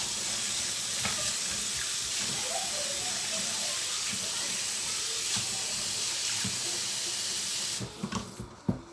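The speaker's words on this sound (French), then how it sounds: "Je lave mon couscous." Tap water pours steadily and loudly while couscous is washed for a Moroccan chicken and vegetable couscous, then cuts off, leaving a few drips and clinks.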